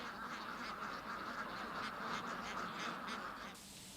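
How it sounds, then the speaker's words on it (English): Peking ducks quack repeatedly in a busy flock, overlapping nasal calls forming a continuous chorus at moderate distance, with no talking. "Peking ducks start life like any other ducks, except that they're treated with much more kindness."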